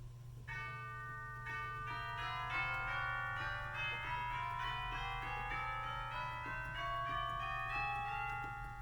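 Chimes of a 1928 Reuter pipe organ ring out a short hymn phrase in a Lutheran church: a run of clear struck bell tones with long overlapping decays over a steady low hum, with no talk.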